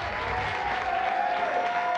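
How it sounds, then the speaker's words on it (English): A studio audience at the Blockbusters TV quiz show claps steadily, an even wash of moderate applause lasting a couple of seconds with no voices on top. "Give her a big round of applause."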